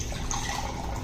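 Water poured from a pan into a container after shaking a wet sand-resistant beach towel, a brief steady splashing pour close by with no talk.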